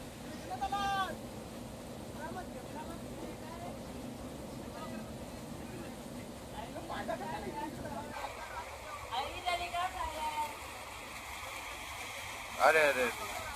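A small monsoon waterfall and stream at Gavliwada near Ahmednagar rushes steadily in the background while people talk over it and a few bleating sounds come through.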